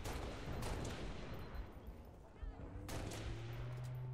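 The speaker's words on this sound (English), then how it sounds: "Those are really good sniper shots." Sniper rifle shots in the Halo Reach video game, a few sharp cracks ringing out over a busy game soundscape, with a steady hum rising near the end.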